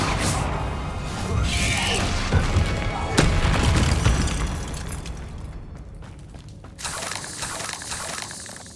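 Spell explosions from the Bombarda charm in the Hogwarts Legacy video game, loud booming bursts over a dense, continuous din of game combat, with a sharp blast near the three-second mark and further crashes afterward, a voice talking underneath.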